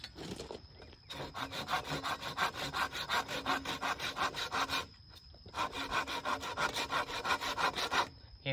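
A hand saw cuts through wood for a flower arbor in quick, even back-and-forth strokes, two long bursts separated by a brief pause, close and clear.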